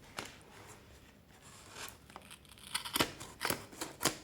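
Scissors snip crochet yarn, a series of short, crisp cuts close by, sparse at first and then a quicker cluster of sharp snips toward the end, with quiet rustling between them.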